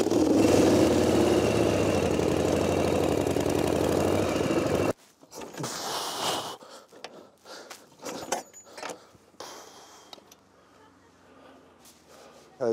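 A restored old motorcycle engine idles loud and steady for about five seconds, then cuts off abruptly, leaving scattered handling noises and quieter sounds.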